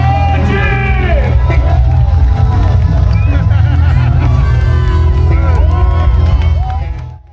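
Loud, dense crowd at a local Rio carnival, with constant babble, cheering and whoops over a steady low rumble of music, fading out at the end.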